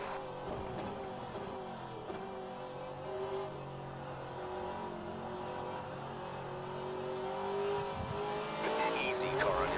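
Racing engines drone and rev in rFactor 2 at Daytona as another race car passes alongside, a continuous mid-level whine with shifting pitch, overlaid by a radio voice.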